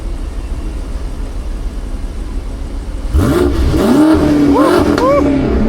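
A BMW M6 with an S63 engine starts quiet, then surges loud as it accelerates, revs climbing and dropping through shifts, heard close from inside the car.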